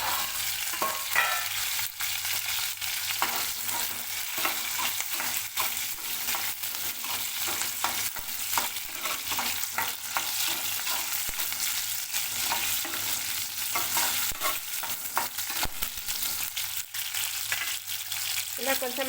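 Gongura leaves cook in a hot pan, giving a steady, close sizzle and crackle of frying that runs throughout, broken by occasional stirring scrapes.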